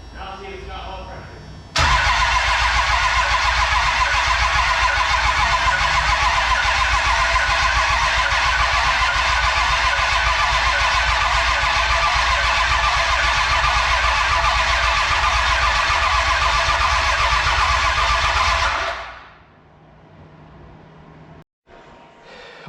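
A 1000 hp Cummins diesel engine in a truck cranks over loudly and steadily for about seventeen seconds with a harsh, even whir, then stops, leaving near silence.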